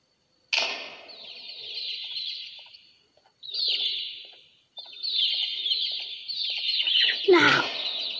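Chickens in the horror video game Garden of Banban 2 give a run of bright clucks and squawks in bursts with short gaps, ending in a louder squawk, close and clear with no talk.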